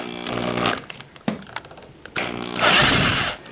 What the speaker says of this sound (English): I'm going to first drill through the metal bracket and a little bit into the wood.